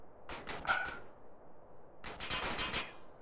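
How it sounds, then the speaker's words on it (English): Enemy gunfire in GTA San Andreas, with two short bursts of rapid shots about a second apart, fairly faint against quiet game ambience. "Okay, well these guys are shooting at me."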